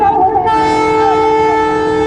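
A train horn sounds on the Munger Ganga rail bridge, a loud, steady sustained blast with strong harmonic tones lasting the whole two seconds over rumbling rail noise.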